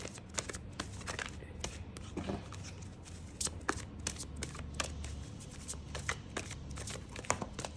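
A Psychic Tarot deck is shuffled by hand, with a rapid run of papery riffles and slaps close up that continues steadily throughout.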